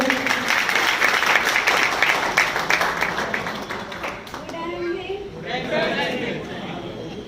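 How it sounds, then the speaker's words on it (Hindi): A crowd claps loudly together, then the applause thins out and trails off while scattered chatter continues underneath. "एक बार जोरदार तालियां हो जाए।"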